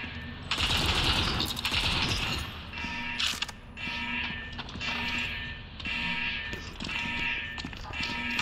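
Rapid gunfire from a fully upgraded sniper rifle in the shooter game World War Heroes, loud repeated shots in bursts with mechanical clatter, close and dominant throughout.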